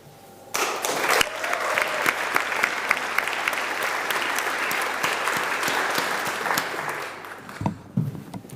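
An audience at a Master Biomedical Sciences diploma ceremony claps loudly and steadily for about seven seconds before the applause thins out. A few scattered claps and a brief voice follow near the end.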